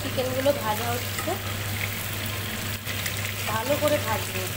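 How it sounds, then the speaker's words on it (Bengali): Chicken pieces fry in a pan for chicken vuna, a steady crackling sizzle running throughout with a low hum beneath, while a voice talks intermittently over the cooking. "দেখো চিকেনগুলো ভাজা হচ্ছে"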